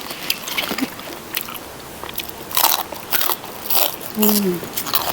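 Crisp, sweet food is bitten and crunched outdoors by a vegetable garden, with several loud, close crackling bites in an irregular rhythm and faint voices around them.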